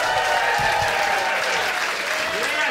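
A comedy special audience claps steadily in a dense, even burst of applause welcoming a comedian on stage, with faint crowd noise mixed in.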